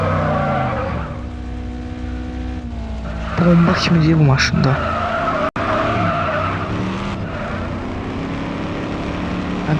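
A car in the Madout2 video game revs its engine and skids, with a sharp tire squeal in the middle over steady engine drone while someone talks throughout.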